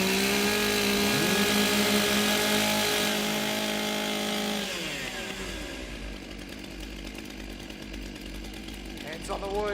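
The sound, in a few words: chainsaws warming up at timbersports event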